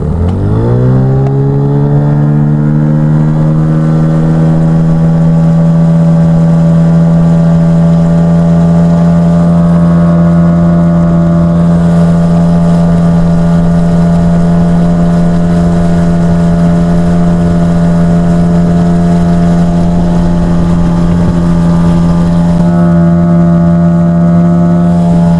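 Warmed-up outboard motor on a boat fitted with a hydrofoil, revving up quickly and then holding a loud, steady drone at full throttle, close and continuous.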